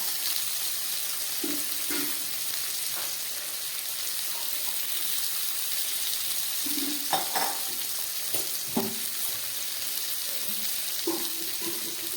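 Two chillies go into fish frying in a pan, amid a steady close sizzle broken by scattered stirring clatters and scrapes throughout, with no voices.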